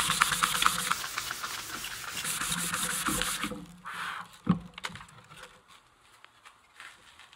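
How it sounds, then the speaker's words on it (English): Rhythmic rubbing and scratching of sandpaper on a small spot of torch-burned wood, close and brisk. It slows to softer scuffs and a light tap toward the end. "let's sand a little spot for time's sake"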